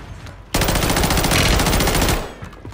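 A loud, close burst of BP50 rifle fire in Warzone, rapid full-auto shots lasting about a second and a half, then stopping abruptly.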